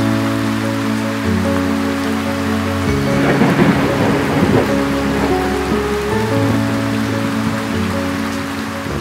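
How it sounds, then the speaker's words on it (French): Steady rain pours down with a broad hiss, joined by a long low rumble of thunder rolling through the middle of the storm. "écouter le doux son de la pluie"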